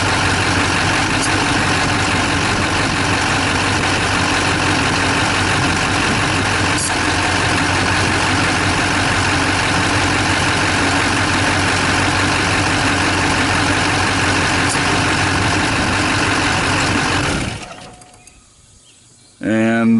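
LB7 Duramax diesel truck engine idling after a compressor clutch bearing replacement, a loud steady low clatter close by that runs evenly, then drops away abruptly near the end.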